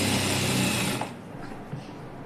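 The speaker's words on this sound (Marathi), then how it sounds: "त्या हिशोबाने शिलाई मारून घ्यायची" A sewing machine stitches blouse fabric in a steady, dense whir for about a second, then stops, leaving only faint quiet handling sounds.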